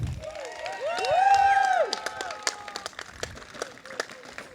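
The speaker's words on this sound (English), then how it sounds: "And now would like to hear a big round of applause from all of you guys to Devin and Ishani" Wedding guests at a destination wedding in Italy applaud the couple, a fairly loud burst of clapping mixed with cheers and whoops that fades into scattered claps.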